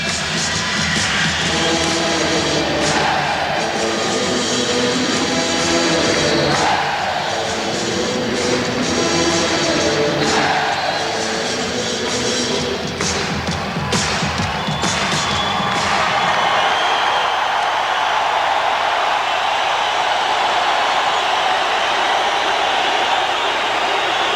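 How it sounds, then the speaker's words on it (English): Basketball fans at Chicago Stadium stomp and clap through a 1990 Bulls versus Pistons playoff game. A loud, dense, continuous arena roar holds for the whole stretch, with its texture shifting partway through. "Chicago on a run, and their fans are up and stomping and clapping."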